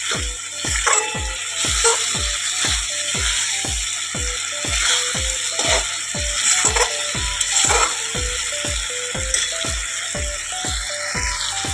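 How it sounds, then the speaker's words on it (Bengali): Spices for chicken kosha fry in a pan under a quick, regular spatula scrape that repeats about twice a second over a continuous hot sizzle. The sound is close and fairly loud, with no voices. "দেখো মশলা ভাজা হয়ে গেছে"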